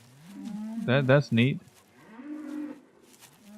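Cows in the Farming Simulator 17 video game give three loud, close moos in quick succession, followed by a softer, drawn-out low moo, with a brief spoken comment in between.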